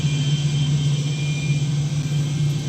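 A steady engine drone hums at a constant pitch, even and unbroken, with a low rumble underneath and no voices.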